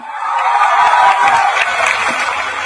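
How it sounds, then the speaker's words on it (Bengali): A student festival crowd breaks into loud applause and cheering, a dense, steady wash of clapping close by throughout. "আমরা এখন জোরে একটা হাততালি দিতেই পারি"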